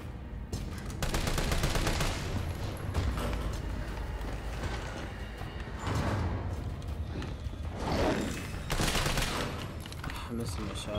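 Rapid bursts of gunfire from shooting in Resident Evil 3, with loud volleys repeating across the whole stretch amid dense game noise and some voice sounds.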